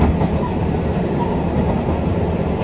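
Steady low rumble of the Orange Shokudo special train rolling along the rails toward Kumamoto Station, heard from inside a carriage, with no voices over it.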